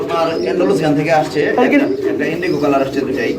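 American fantail pigeons coo in low, throaty murmurs, mixed with people talking nearby.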